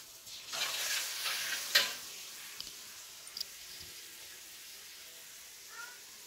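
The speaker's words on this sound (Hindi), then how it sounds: "और अब ये जो इमली का पल्प है, यानी इमली भिगी हुई है, मैंने गुठली नहीं निकाली, ये इसमें चला जाएगा।" Soaked tamarind pulp, seeds still in, goes into a pan of frying masala, giving a burst of sizzle and a spoon clack that quickly fade to a soft, faint crackle, with sporadic small knocks.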